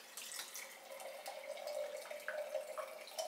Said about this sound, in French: on va rajouter de l'eau dedans.